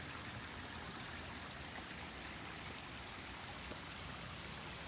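Steady running water from a garden water feature at the top of a mountain garden, a continuous even trickling and splashing rush with no pauses and no voices.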